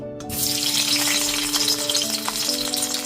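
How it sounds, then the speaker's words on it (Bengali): Boiled potatoes sizzle vigorously in hot mustard oil, a loud, steady crackling hiss that starts abruptly and holds throughout over a low hum. "এরপর এতে সেদ্ধ করে নেওয়া আলুগুলোকে দিয়ে দিচ্ছি"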